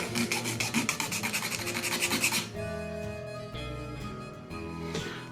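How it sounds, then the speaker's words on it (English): A chisel scrapes the ends of Telecaster-style guitar parts flat in a quick run of about a dozen rhythmic, rasping strokes close up, then stops as music carries on. "I want to make the ends of this flat, so I have this chisel"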